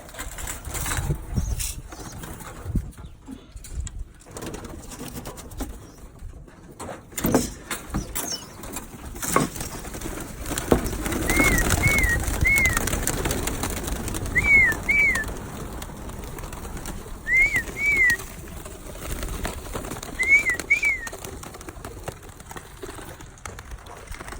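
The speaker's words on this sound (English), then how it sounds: "this is day 15 of training young Birmingham Rollers." Young Birmingham Roller pigeons give soft paired chirps now and then amid wing flaps, rustling and scratching close by, set against a quiet outdoor background.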